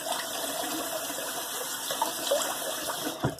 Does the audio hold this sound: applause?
no